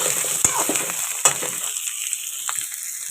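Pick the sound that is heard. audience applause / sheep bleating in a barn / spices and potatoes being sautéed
spices and potatoes being sautéed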